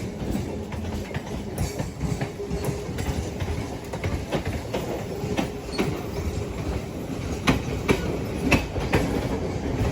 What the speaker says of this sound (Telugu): కరెక్ట్గా మెమో ట్రైన్ వచ్చింది